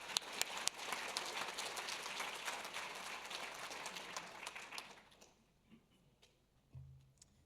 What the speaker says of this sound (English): Another round of applause, ladies.